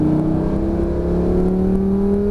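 Lamborghini Gallardo accelerating hard on the Lédenon race circuit, a loud, steady engine drone with rising harmonic pitch held close and continuous throughout.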